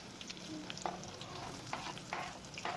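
Onions with crushed garlic, cumin and curry leaves frying in a pan, a faint, steady sizzle with a few soft stirring scrapes, no voices.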